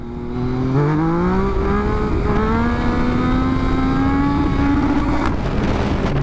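A Yamaha MT-09 motorcycle engine accelerates steadily, its pitch climbing through a gear change, loud and close with no voices.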